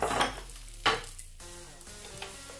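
Quesadilla filled with minced meat and cheese cooking in a pan, giving a soft steady sizzle broken by a few louder scrapes and clatters of a flat spatula against the pan, close by with no talking.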